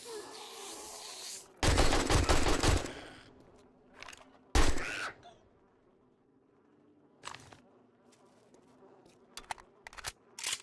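Short bursts of machine gun fire in the survival game 7 Days To Die during a horde night: two loud sustained bursts, then scattered shorter volleys and single shots, with quiet gaps between.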